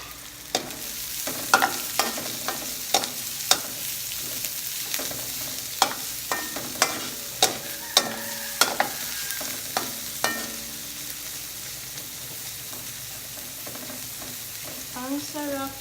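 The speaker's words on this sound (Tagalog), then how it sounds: "we will add up the red onions." Red onions frying for pancit palabok, with a steady sizzle in the pan and a run of sharp clacks and scrapes as they are stirred, loud and close, with no voices.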